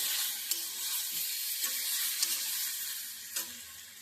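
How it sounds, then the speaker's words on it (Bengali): Brinjal fries in a pan with boiled potato, making a steady sizzle with a few sharp clicks and taps from stirring. "দেখো আলুটা সিদ্ধ করে দিয়ে দেবো।"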